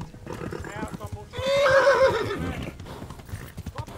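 A horse gallops with rhythmic clip-clop hoofbeats and lets out a loud, rising whinny midway, in the medieval video game Kingdom Come Deliverance, while a voice talks over the action.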